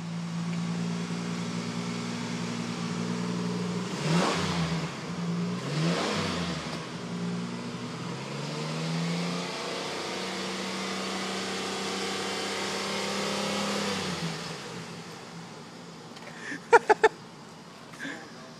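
A Mercury Mountaineer engine that has just had a Seafoam treatment revs up and down several times, a steady mid-pitched drone that swells and falls back. It is close and moderately loud, and a few sharp knocks sound near the end.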